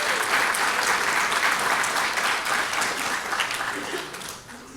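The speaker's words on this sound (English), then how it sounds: "One more round of applause, please." Applause from a seated audience at a district recognition dinner, a dense, sustained wash of many hands clapping that holds steady and then gradually fades near the end, with no speech over it.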